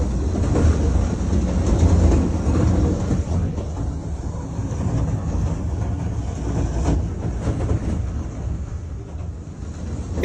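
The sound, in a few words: heavy train cars derailing off the rails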